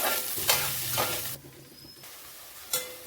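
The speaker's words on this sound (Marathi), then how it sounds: "दोन मध्यम आकाराचे कांदे घेतले हे कांदे परतूया आपण परतून घेऊया" Onions and green chilies sauteing in a pan, a close, bright sizzle with a few spatula scrapes, dipping briefly quieter mid-way before another scrape.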